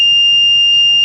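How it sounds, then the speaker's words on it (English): A loud, steady electronic buzzer in a voice-controlled home automation setup drones continuously at a single high pitch, close by, with no talking over it. "Now again I am sending the command to turn off this buzzer."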